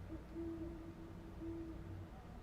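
Owl hooting in the horror video game The Midnight Walk: a few steady, sustained hoots with a gap between them, at moderate loudness over a low rumbling ambient backdrop, no talking.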